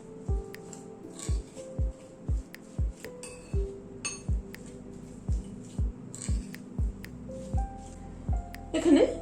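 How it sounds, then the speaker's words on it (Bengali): A spoon clinks steadily against a bowl while milk is mixed into banana and rice flour cake batter, with about two crisp taps a second and a busier clatter at the end. "এখানে দুধ মেশাচ্ছি।"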